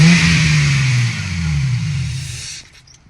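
Car engine fitted with an aftermarket dual exhaust Y-pipe kit and a larger cone air filter revs loudly and close up, pitch rising then falling over about two and a half seconds before cutting off abruptly.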